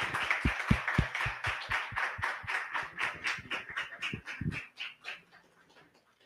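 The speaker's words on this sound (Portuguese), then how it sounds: "Podemos aplaudir o professor Eduardo" Audience applause for a professor at an evening lecture event, a burst of many hands clapping loudly at first, then thinning and fading out over several seconds.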